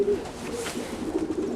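A big racing homer pigeon gives a short run of low, throaty coos, close by and fairly soft.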